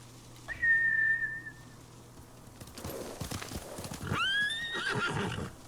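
A sharp whistle in Ghost of Tsushima calls a horse, which gallops in with rapid clip-clop hooves and lets out a loud whinny near the end.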